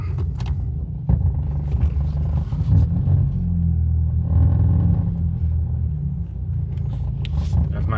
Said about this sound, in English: Now that sound is actually my exhaust